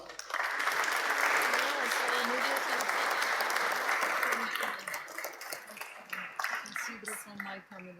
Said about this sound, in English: Your big round of applause for all of the people here.